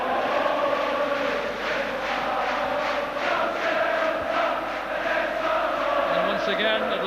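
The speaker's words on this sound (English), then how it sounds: "the chanting and the singing and the cheering coming from these Celtic supporters inside the" Celtic supporters in a 53,000 crowd at a Scottish Cup quarter-final against Rangers, a continuous loud wash of chanting, singing and cheering that fills the stadium without a break.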